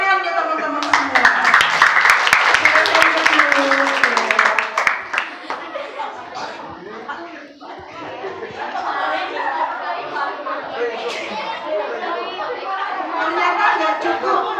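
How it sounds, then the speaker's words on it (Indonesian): A group of children claps and chatters in a classroom-style gathering, the applause loudest at the start and then giving way to lively talk and laughter. "Oke, tepuk tangan ya teman-teman semua."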